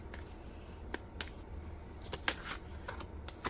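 A Moonology oracle card deck being shuffled by hand, a close run of crisp papery riffles and flicks with no talk.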